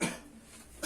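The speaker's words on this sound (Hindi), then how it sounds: "खांसी हो गई" A single sharp cough bursts out at the very end after a quiet stretch, with another brief burst at the start.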